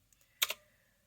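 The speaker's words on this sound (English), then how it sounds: "I can type it in real fast." A short pair of quick keystrokes on a computer keyboard, close and fairly faint, with a couple of softer taps just before, in a quiet room.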